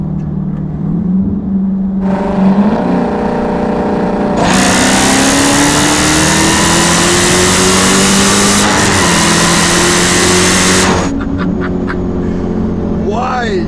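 A 2015 Dodge Charger Hellcat at about 60 mph, its supercharged V8 surging loudly as it downshifts and revs hard, a sustained close roar with a rising pitch that cuts off abruptly near the end.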